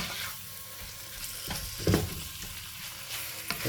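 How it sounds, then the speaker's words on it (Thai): Pork for Thai nam tok stir-frying in a pan, a continuous close sizzle broken by scraping stirs and one louder clatter midway, with no talking. "ผัดให้มันสุกจะน้อยก่อนพี่น้อง"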